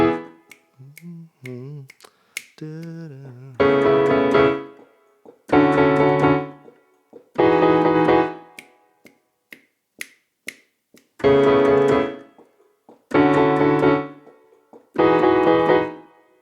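Piano chords ring out in steady groups, each struck firmly and left to sustain before the next, after a few soft scattered notes at the start.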